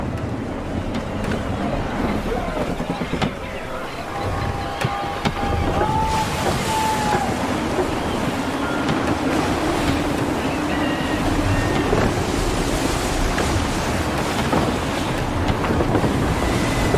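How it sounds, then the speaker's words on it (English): Gusty wind blows over the open sea in Assassin's Creed 3, a steady roar of air and surf around a sailing ship, with brief whistling tones and creaks rising through the constant rush. "Gusty winds can be difficult to manage."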